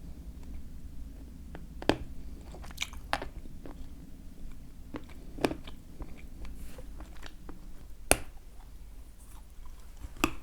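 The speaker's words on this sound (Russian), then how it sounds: "Очень жесткий, крупинка жесткая, жуется тяжело, даже маленькие пластиночки разгрызть тяжело" Close, dry crunching and chewing of a hard, grainy grey Turkestan assortment food, with irregular sharp crackles over a steady low background and no talk.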